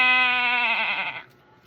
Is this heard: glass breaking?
no